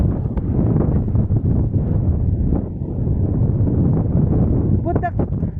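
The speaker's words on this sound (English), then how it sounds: "it's windy now." Strong, steady wind roars across a fishing spot, buffeting the microphone continuously from start to finish while voices talk over it.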